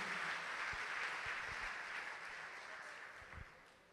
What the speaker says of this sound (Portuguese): Vamos aplaudir o Senhor e se coloque de pé no seu lugar.